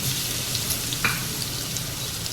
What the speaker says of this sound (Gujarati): અને હવે વઘારમાં આદુ લસણ મરચાં એડ કરી દીધા.